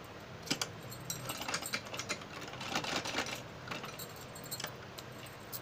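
A sewing machine stitches along lace, a fairly quiet close whir with jangly, clicking mechanical bursts that rise and fall in uneven runs.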